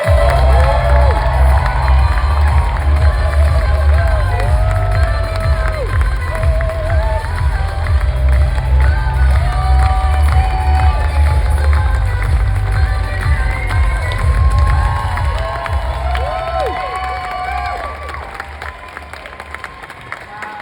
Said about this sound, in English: So please join me and keep the applause going